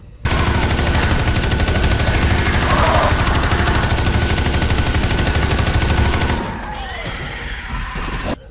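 The Vengeance minigun in Space Hulk: Deathwing fires a loud, continuous, rapid stream of shots for about six seconds, then winds down into fainter mechanical whirring.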